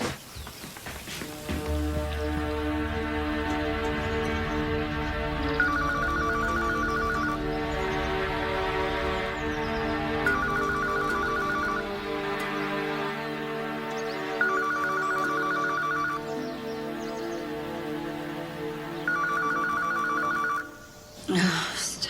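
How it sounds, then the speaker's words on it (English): A telephone rings repeatedly in a home, its bell sounding in regular bursts separated by short pauses over a long stretch, moderately close, with background murmur and a voice coming in faintly. "Stop that phone from ringing."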